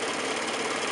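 A sewing machine running steadily as it back stitches the seam of a pillow cover, producing a continuous dense mechanical whir for a short moment with no pauses.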